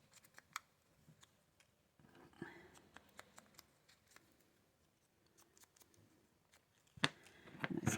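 Scissors snip through paper scraps during stamp and scrap organizing, with a few quiet, sharp cuts spaced out between soft handling rustles and a louder burst of paper movement near the end.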